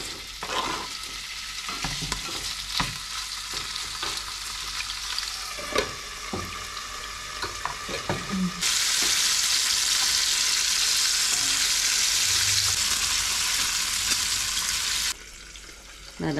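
Hotdogs and eggs frying in cooking oil, a close steady sizzle with scattered clinks and scrapes of a utensil, then a louder, denser burst of sizzling that abruptly cuts off near the end; no voices.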